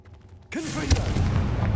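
A Confringo blasting spell explodes in the Hogwarts Legacy video game, a sudden loud booming burst that lands hard and then rolls on as a dense, rumbling wash of noise, with a faint voice underneath.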